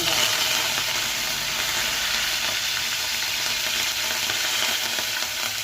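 Seeds and curry leaves fry in oil for tempering a potato tomato curry, producing an even, close-up sizzle with light stirring underneath, steady for several seconds.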